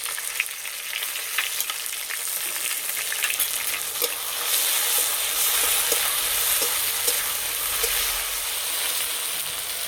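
Tomato and ginger-garlic paste frying with browned onions for an aloo phulkopi dum give a loud, close sizzle that intensifies midway, with intermittent stirring clicks and scrapes and no voices.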